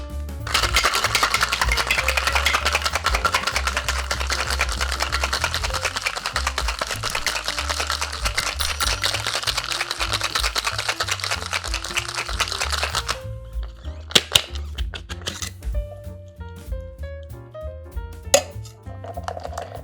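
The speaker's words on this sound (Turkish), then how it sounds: "Buz koyuyorum. Shake ediyorum." Ice rattles hard inside a cocktail shaker with cream and vanilla for Irish coffee, in a loud, steady churning shake lasting about thirteen seconds. Looser clinks and knocks follow as the shaking stops.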